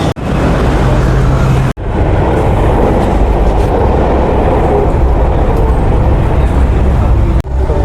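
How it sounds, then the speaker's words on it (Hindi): Delhi Metro train ride toward Rajouri Garden, with a loud, steady rolling roar of the carriage throughout, punctuated by a couple of brief dropouts, with the rumble continuing alone. "मैंने पकड़ी है राजौरी गार्डन की मेट्रो।"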